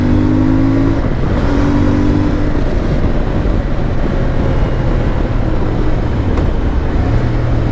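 A CF Moto 450MT motorcycle engine drones loud and steady while riding, with a constant rumbling exhaust and a faint rising and falling pitch, no one talking.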